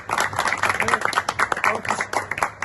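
A short burst of scattered clapping from a small group at a football match viewing, brief uneven claps with people talking over them.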